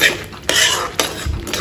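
A utensil clinks and scrapes against a cooking pot while spices are stirred and fried for a chital fish meal, with a few sharp, close metallic knocks over a soft background.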